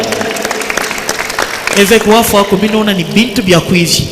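A church congregation applauds loudly and steadily throughout, with voices calling out over the clapping as it builds toward the end.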